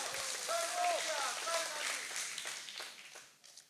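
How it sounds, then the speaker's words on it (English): A broad round of audience applause at a televised singing competition semi-final, a dense wash of clapping mixed with cheering voices that gradually thins out toward the end. "Folks, please give him another big round of applause."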